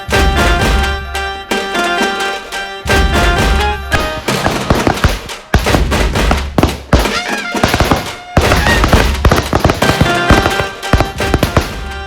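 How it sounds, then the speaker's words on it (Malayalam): A long string of firecrackers bursting in rapid crackling volleys, loud and close, with brief pauses between bursts. "പടക്കം പൊട്ടിക്ക മാറി"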